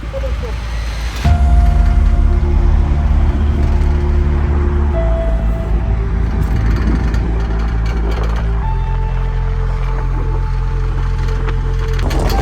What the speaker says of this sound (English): we've got a 4x4 coming in a few minutes for a bumpy ride